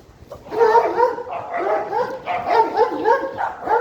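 Several dogs bark and yip in quick overlapping bursts, fairly close, with some whimpering mixed in, continuing steadily throughout, at the seaside in Chornomorka, Odesa.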